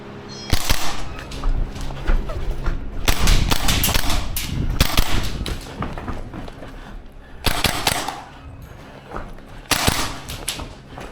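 A Maruyama SPC-9 gas blowback airsoft rifle fires in rapid bursts through two magazines, sharp cracking shots in dense strings with brief pauses between volleys, loud and close.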